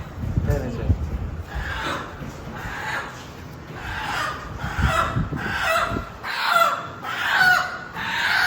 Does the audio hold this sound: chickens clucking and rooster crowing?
yes